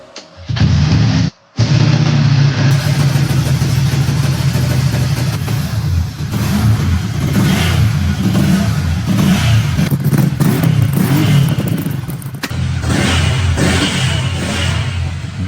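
A restored Ducati motorcycle engine fires up after a brief cut, then idles and revs in a loud, steady, throbbing rumble close by, with blips rising and falling and no talking.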